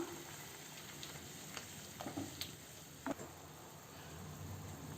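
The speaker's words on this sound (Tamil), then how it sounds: "இப்போ நம்மளோட கிரேவி நல்லா கொதித்து வந்துட்டு இருக்குது." Aloo matar gravy of potato and peas simmers in a pan with a steady soft sizzling bubble and occasional small pops, faint and alone.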